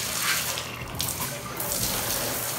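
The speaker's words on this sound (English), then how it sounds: "Let me turn on the water here" Water runs from a bathtub spout in a steady close gush, with small shifts in the splashing as the flow continues.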